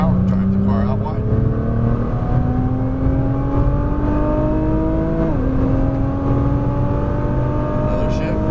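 Nissan GT-R engine pulling hard out of a corner, a loud, steady rising drone with a brief dip near the end, under continuous close-up engine and cabin noise.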